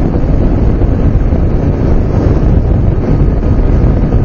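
Cold, gusty wind buffets the microphone on a motorcycle ride, a loud, continuous low roar that rumbles steadily and drowns out any other detail, with no speech.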